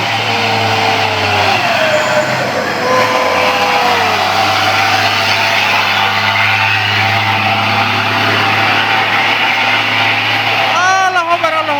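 An overloaded Colt diesel truck engine labors loudly and steadily as it strains to climb a steep hill, a constant heavy drone running throughout with people talking over it.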